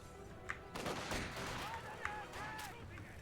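Suppressive fire from a DShK heavy machine gun in a multiplayer strategy video game, a few sharp bursts and cracks mixed with battle noise and distant whistling effects.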